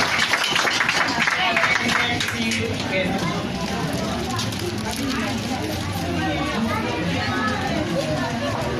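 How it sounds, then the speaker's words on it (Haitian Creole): Applause from a congregation inside a Haitian church, a dense patter of clapping mixed with crowd chatter and voices talking throughout. "Et on nous applaudit mes amis."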